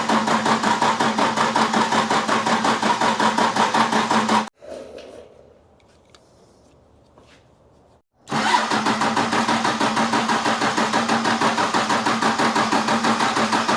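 A Dodge engine cranks and fires under test after the battery terminals were cleaned, running loud and steady for several seconds, cutting off briefly into near silence, then restarting and running strongly again.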